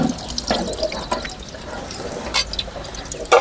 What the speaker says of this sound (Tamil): அரிசியை நல்லா சுத்தமாக களைஞ்சி எடுத்துக்கணும்.